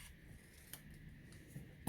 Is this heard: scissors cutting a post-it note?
yes